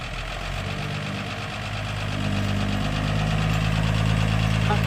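A car engine that has stalled twice is revved. The low, rough rumble runs steadily, then deepens and grows louder partway through as the accelerator is pressed.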